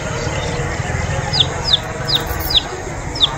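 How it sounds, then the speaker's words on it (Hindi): Chicken sounds in a farmyard at dusk, with a hen and newly hatched chicks near a wet field; a run of five short, sharp chirps repeats at a steady pace over a constant low rumble of background noise. "बाहर एक चूजा बाहर आ गया है, देख रहे लाल वाला रो रही है।"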